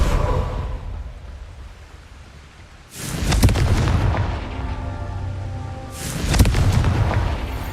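The Confringo blasting spell in the Hogwarts Legacy video game, with two loud, deep booming explosions a few seconds apart, each rumbling and fading, over low ambient game background and no talking.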